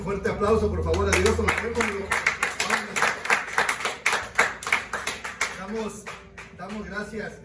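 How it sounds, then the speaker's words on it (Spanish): Congregation clapping during a Sunday church service, rhythmic and fairly loud, mixed with voices and music throughout. "Denle un fuerte aplauso, por favor, a Dios."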